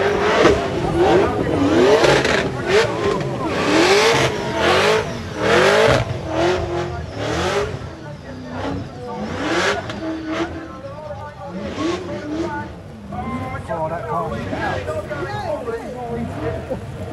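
A drift car with an LSVA engine revs hard on a wet track during a qualifying session in the rain, with repeated rising and falling engine wails over tyre noise, under near-continuous commentary.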